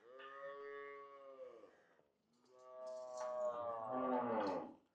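A Jersey Friesian cross dairy cow on a farm gives two long, loud moos, one after the other, with a brief pause between them and no talking.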